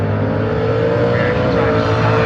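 A drag race car's engine at a hot rod reunion drag strip roars in a loud, continuous drone as the revs climb, with crowd and track noise underneath.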